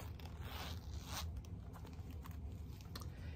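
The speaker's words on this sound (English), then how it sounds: "And this also has a zipper." The small zipper on a Coach wallet is pulled in quick, scratchy strokes close up, with soft rustling between the pulls.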